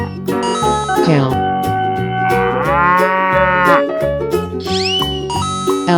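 A cartoonish cow character in a 3D animal slide game moos in a loud, tonal, drawn-out call over bright, jingly game music, with no talk.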